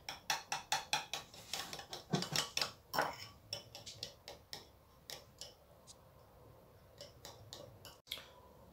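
A spoon or whisk beats mint chutney and water together in a bowl, giving a quick run of sharp clinks and taps that slows into sparser, irregular strokes, close and fairly quiet.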